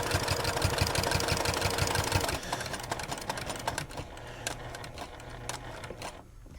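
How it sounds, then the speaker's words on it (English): A domestic sewing machine stitches quilt binding in a steady fast whir for about two seconds, then slows into slower, uneven stitching and stops with the needle down, close and fairly loud. "So I'm going to sew up to that point and then stop with my needle down."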